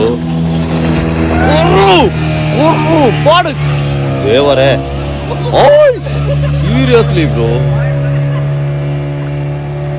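A steady motorboat engine drone runs beneath loud, excited voices talking and exclaiming close by throughout.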